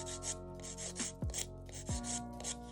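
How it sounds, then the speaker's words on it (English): A nail file rubs back and forth along the edges of long coffin-shaped nails, soft close scratchy strokes in a quick repeating rhythm. "I'm just gonna file slightly on each side"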